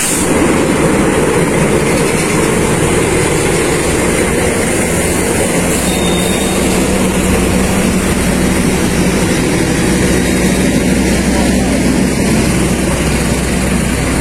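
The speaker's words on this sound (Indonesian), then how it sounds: "Sepertinya rangkaian daripada kereta api" A train rolls steadily through a station, a loud, continuous rumble of wheels and carriages that holds without a break from start to finish, close by and with no voices over it.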